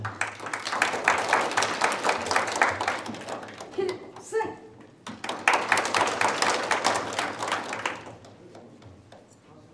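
Applause from an audience at a fire-safety event welcoming a speaker to the stage, two bursts of moderate clapping separated by a short pause where a voice calls out, fairly quiet and roomy.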